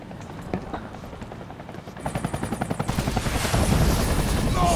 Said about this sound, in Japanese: シンナのヘリ来たのか